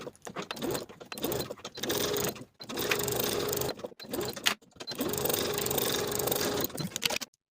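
A sewing machine stitches around coat belt pieces in two long bursts of steady mechanical whirring, separated by brief pauses, then a final shorter run.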